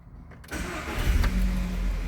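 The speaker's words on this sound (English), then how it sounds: "Start up the car again." A car engine cranks and catches after a brief click, then settles into a steady, close idle with a slight rev, loud and with no talking.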